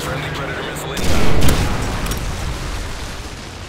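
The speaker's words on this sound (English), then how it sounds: "Friendly Predator missile inbound." A Predator missile strike explodes in Call of Duty: Modern Warfare 3 on PC in Survival Mode. A loud, rumbling blast swells about a second in and trails into continuous battle noise, with voices mixed in.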